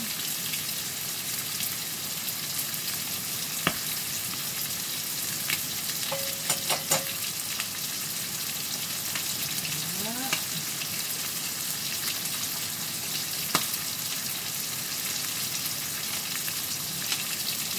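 Chorizo frying in a pan, a steady close hiss of sizzling with a few small clinks and scrapes of a utensil partway through.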